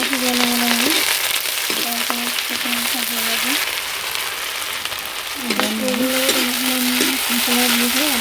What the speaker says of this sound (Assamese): তেল গৰম হ'ল ইয়াতে পিঁয়াজ দিলোঁ, মছলা সিজাই ল'ব লাগিব